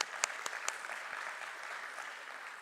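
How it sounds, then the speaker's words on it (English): Applause from the audience at a stock exchange listing ceremony as a guest walks on stage, a steady wash of many hands clapping with a few sharp claps standing out near the start. "Let's have a huge round of applause for Bhavin"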